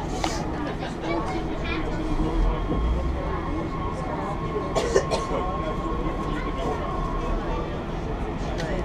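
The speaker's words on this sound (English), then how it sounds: "We'll be getting off of Metro Center and then we'll watch the train leave." A WMATA Rohr 1255 Metro train with AC propulsion pulls out of a station, its motors rising in a steady whine over low rumble, with rattles and clunks near the middle and voices chattering around it.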